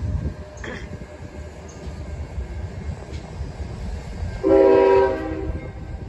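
A CSX freight train pulls away under steady rumbling rail noise, and a loud horn blast of about half a second sounds near the end.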